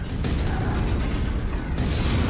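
Heavy rifle fire from a mech in the MechWarrior video game, a dense, loud booming barrage that fills the whole stretch with sharper blasts near the start and end.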